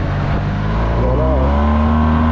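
A Yamaha TMAX scooter engine is held at full throttle, a loud, close, steady drone with a brief rise in pitch partway through.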